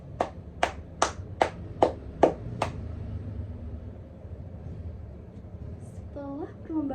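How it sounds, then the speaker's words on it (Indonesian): Seven sharp, evenly spaced claps ring out in a quiet room after a storytelling competition, followed by a pause and then a voice speaking. "Setelah perlombaan, satu ruangan dipenuhi dengan tepuk tangan"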